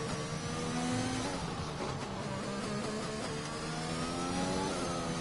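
A McLaren racing car engine in a sim racing game at a Japan round drones loudly and continuously, its pitch climbing and dropping through gear changes, with no talk over it.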